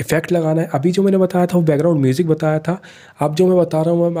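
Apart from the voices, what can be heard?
No everyday noise stands out behind the speech.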